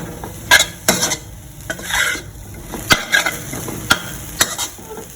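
Jute leaves are stir-fried in a pan over medium-low heat, with repeated sharp scrapes and clanks of a spatula against the metal over a light, continuous sizzle.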